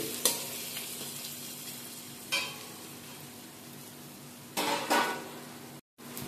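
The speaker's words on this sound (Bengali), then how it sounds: "ভাজা ভাজা করে নিচ্ছি।" Onion and garlic frying over medium heat in a pan, a continuous soft sizzle broken by a few bursts of scraping and stirring with a spoon, no voices.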